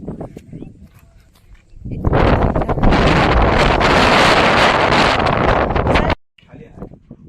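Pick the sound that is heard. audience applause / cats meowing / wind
wind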